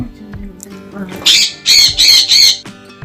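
A parrot squawks in several harsh, shrill bursts, loud and close, following a short stretch of low voice-like sound at the start.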